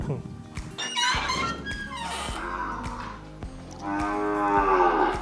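Several calves in a cow shed moo close by, drawn-out bellowing calls one after another, with people talking softly around them.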